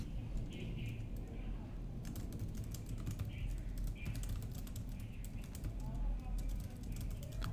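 Keys clatter in quick irregular bursts on a computer keyboard while a note is written into a web form, with faint birds chirping and cooing in the background.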